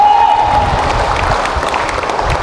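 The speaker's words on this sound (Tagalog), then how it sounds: "Yung mga malalakas na pumalakpak yan, yung mga nagpapahalaga kay Kristo" Loud, dense applause from a church congregation in Alaminos, Laguna, a steady wash of clapping filling the space throughout.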